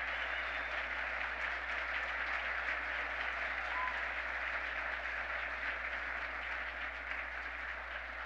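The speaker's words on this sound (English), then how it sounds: "A big round of applause for Calvin Arsenia." Crowd applause for performer Calvin Arsenia at a Kansas City State of the City address, sustained, even clapping from a large audience heard at some distance, fairly soft and continuous throughout.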